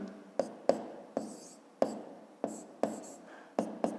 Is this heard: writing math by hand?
yes